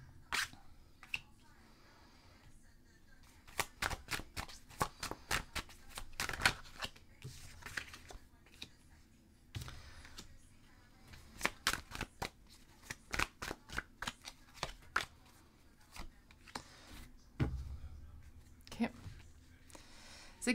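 Tarot cards being shuffled by hand, a quiet series of crisp riffling and slapping bursts at irregular intervals, close and soft, with a little speech in places.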